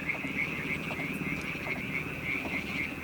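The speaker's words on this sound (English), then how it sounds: "all you can hear is the sound of the nature and the frogs" Frogs croak in a steady, dense nighttime chorus in rural Turkey, with one high trilling call repeating throughout alongside lower croaks, continuous and moderately loud with no voices.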